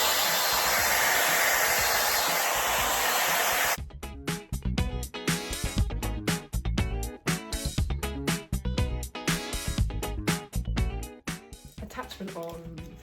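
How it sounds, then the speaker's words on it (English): A handheld hair dryer blows loud and steady for about four seconds while drying hair at home, then its broadband roar stops and music with beats plays instead. "I'm just going to dry it."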